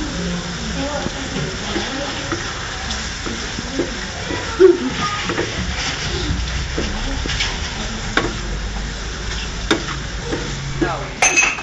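Squid stir-fries with salt and pepper in a hot pan, a steady sizzle and hiss broken by scraping and clattering from stirring, with a few louder knocks, while people talk in the background.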